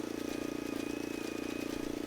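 A tractor pulls a baler across a harvested field in Farming Simulator 22, its engine giving a steady, even mid-pitched drone with a faint tonal whine throughout.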